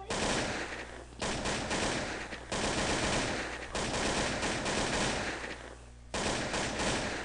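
Rapid automatic AK-47 fire in a video game, several sustained loud bursts separated by brief gaps, with no talk over it.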